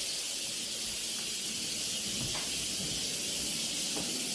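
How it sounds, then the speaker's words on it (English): A pressure cooker full of chicken congee vents steam in a steady, continuous hiss that fills the clip at an even level, close by, with faint clicks underneath and no talking. "it's taking quite a while to totally depressurize and let all that steam out."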